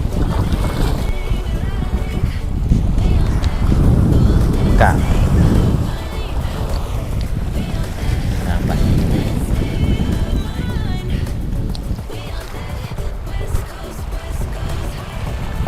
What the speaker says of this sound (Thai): เสียงลมครับบรรยากาศลม